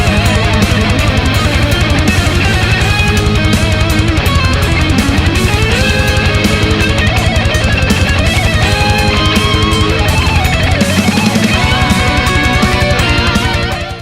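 A loud metal guitar solo played over a Phrygian-style riff with a half tone, whole tone scale, fast melodic lines over a driving, distorted backing that continues without a break.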